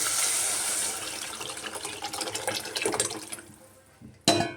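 A coriander, curry leaf and mint liquid is poured into a pot of mutton rasam, a close, steady splashing gush that thins out and then ends with a short clatter.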